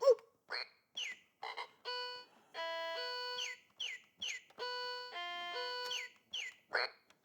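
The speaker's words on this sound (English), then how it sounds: "If you push this button, you can set it to animal noises." A digital piano's animal-noise setting gives out a series of short croaking frog calls and synthetic chirps in quick, uneven bursts, fairly quiet, with no talking.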